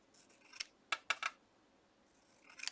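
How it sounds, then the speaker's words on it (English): Scissors cut through pink ribbon in a few crisp, close snips, one alone, then a quick cluster of three, then another later, with quiet pauses between and no talking. "So what I do is cut it down, and then I cut it down again through the middle."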